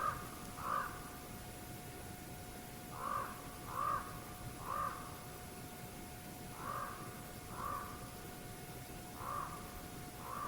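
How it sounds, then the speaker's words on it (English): Ravens calling in a series of harsh caws, grouped in twos and threes with short gaps, fairly distant outdoors over a steady hiss of background noise. "Raven. Ravens. Something spooked them."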